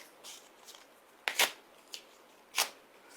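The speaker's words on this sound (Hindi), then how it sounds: "ये मेरे निष्कासन का नोटिस जो मुझे दिया गया है, ठीक उसी तरह कैमरे के सामने फाड़ रहा हूं" A paper notice is torn up in a few quick, crisp rips, separate short bursts of tearing with small rustles in between, close and fairly quiet.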